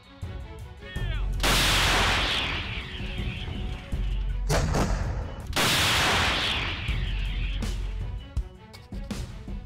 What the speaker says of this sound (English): they're both caught in a shell blast